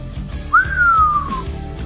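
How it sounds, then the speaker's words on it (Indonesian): A single human whistle, one clear tone that rises quickly and then glides slowly downward, loud and close over a low background drone. "Wiro Sableng bersiul."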